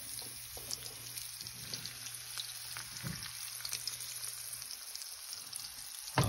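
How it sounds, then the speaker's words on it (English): Seasoned redfish fillet sizzles and crackles steadily in a hot pan, seasoned side down, a close, continuous frying hiss with scattered pops and no talking. "That's what you want, a nice sizzle."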